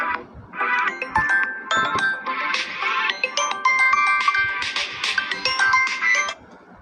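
A mobile phone's melodic ringtone plays for an outgoing call, loud and close, a bright repeating tune that runs for several seconds before cutting off.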